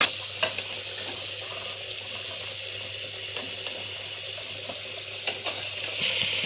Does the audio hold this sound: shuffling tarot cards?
no